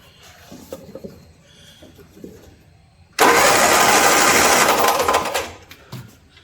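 MG Midget engine that sat unused for 35 years: quiet fiddling, then the starter cranks and the engine catches, running loud and rough for about two seconds before dying away.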